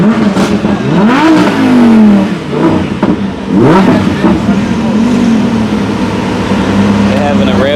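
At an outdoor car show, a car engine revs hard twice, each rise sweeping up loudly and falling back to a throaty idle, close by and under crowd chatter and voices.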